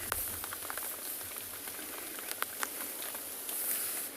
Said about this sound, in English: I hear the rain falling on our rain roof.